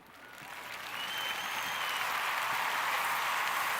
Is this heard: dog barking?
no